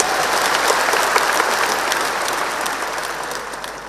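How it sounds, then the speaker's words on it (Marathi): An audience at a political rally claps together, a thick continuous roar of hands that starts loud and eases off slightly toward the end, with no speech over it. "अच्छा एकदा सगळ्यांसाठी टाळ्या वाजवा"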